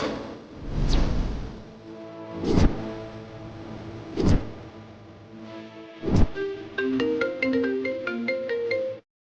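A mobile phone ringtone plays nearby: four swelling chime-like bursts, then a quicker melodic pattern of bright tones, with no talking.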